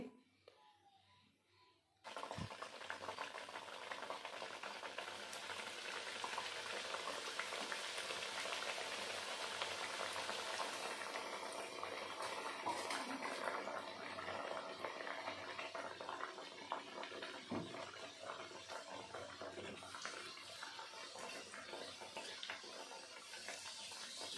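Pitha frying in hot oil, a dense, even bubbling sizzle that starts abruptly after a quiet moment and runs steadily, close but moderately soft, with a few faint clicks and no talking.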